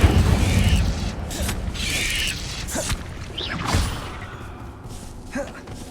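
Fire spells cast in the game Hogwarts Legacy, whooshing bursts and rumbling booms with creaks layered over game ambience, several in quick succession alongside a voice calling spell names.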